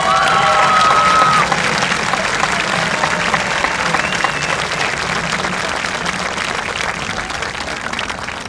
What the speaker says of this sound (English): for the audience to join me in a round of applause